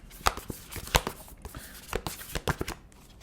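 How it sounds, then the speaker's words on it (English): An oracle card deck is shuffled by hand, close and crisp, with a quick run of riffling snaps and soft slaps repeating in uneven bursts, no one speaking. "I want to pull this Oracle card first before I get to talking"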